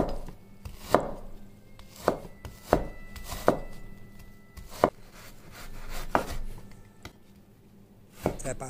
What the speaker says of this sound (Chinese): 我这里把豆干切成丝，再把鸡片切成丝，先切片后切丝。